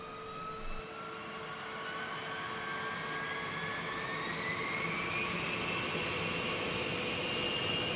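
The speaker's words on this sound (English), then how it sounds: "the pilots fire up each of the B-52's 8 engines" Steady jet engine whine of a B-52 bomber's eight engines starting, building and rising in pitch, a continuous roar with a high tone climbing as the turbines spin up.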